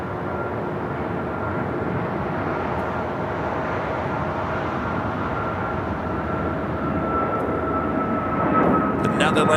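An American airliner lands on runway 25 right at LAX, a steady, broad jet roar holding evenly throughout and swelling slightly near the end.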